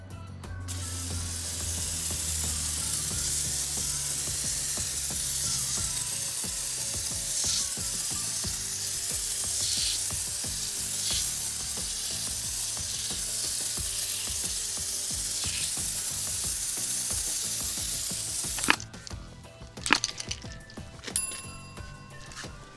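A Marolex Axel 2000 pump foamer sprays a steady, hissing stream of foam over the wheel and tire of an Acura, continuous for about eighteen seconds, then a few short bursts and clicks at the end.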